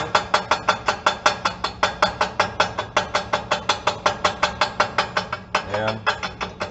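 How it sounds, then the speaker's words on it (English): A small chipping hammer rapidly taps slag off a fresh weld, about four sharp metallic strikes per second in a steady run, close and fairly loud, with a short pause near the end before the tapping resumes. "Then we can take our little chipping hammer and we can"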